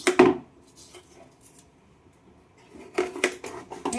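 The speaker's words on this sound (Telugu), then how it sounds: "నేను త్వర త్వరగా అయితే వెజిటేబుల్స్ కట్ చేసేసుకుంటున్నాం" A knife cuts vegetables against a board at home, giving sharp clicks and taps in two short bursts near the start and end, with a quiet stretch between.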